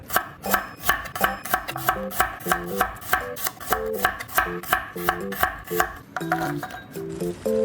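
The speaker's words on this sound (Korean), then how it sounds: "마늘 8알은 편 썰어줄게요." A knife slices garlic cloves on a cutting board, quick even strikes in a brisk rhythm, close and clear with no talking.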